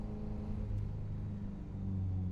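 A Ferrari F355 GTS engine hums in a steady, fairly quiet low drone with strong harmonic tones that rise slightly in pitch near the middle and end, like gentle revving at moderate distance.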